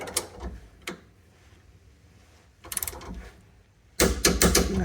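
A ratchet wrench with a 3/4 inch socket turns a bolt on a GM SUV rear end link, sounding as short bursts of rapid clicking separated by pauses, with a longer, louder run of clicks at the end, close by.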